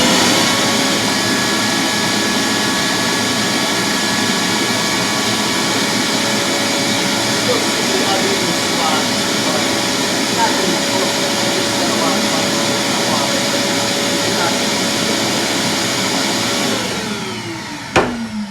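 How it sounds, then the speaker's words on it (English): A vacuum cleaner roars loud and close while clearing sanding dust from a rotted bathroom window sill, holding a steady whine with a faint tonal hum before winding down at the end. "Let's hit it with the vacuum real quick."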